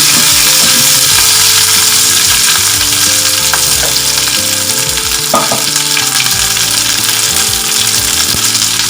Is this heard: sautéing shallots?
yes